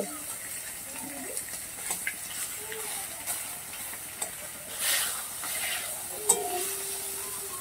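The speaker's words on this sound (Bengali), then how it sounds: "এইভাবে সব মাছগুলোকে আমি ভেজে" Small chuno fish from a pond fry in hot oil with a soft, continuous hiss and scattered faint pops and crackles, while a voice talks intermittently over the sizzle.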